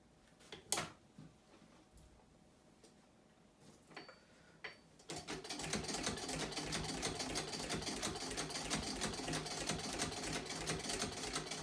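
A vintage sewing machine stitches through a thick stack of felt and leather layers, running in a steady, rapid mechanical chatter for the second half after a few quiet bumps and handling sounds.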